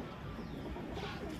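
A young Teddy pigeon offered for sale in Lahore gives a soft, brief coo over a low, noisy background.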